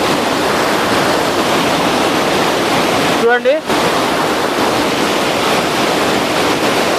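Flood water pours over a village pond weir after days of heavy rain, a loud, steady roar of rushing water filling the whole scene. A brief spoken word cuts in near the middle.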